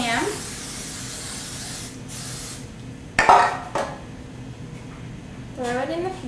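A short hiss of cooking spray coats a baking pan for beer bread in a home kitchen, with a faint earlier spray burst and light clinks of pans and utensils around it.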